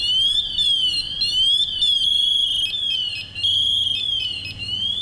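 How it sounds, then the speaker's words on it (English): A firefighter's personal safety alarm shrieks continuously and loudly at close range, a high electronic tone sweeping up and down in a steady repeating warble with no talking over it. "So that's the final alarm."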